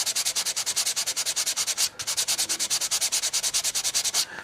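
Sandpaper rubs over the glued joints of wooden model ship ribs in quick, even back-and-forth strokes. The steady run of close, loud scratching pauses once briefly and then carries on to the end.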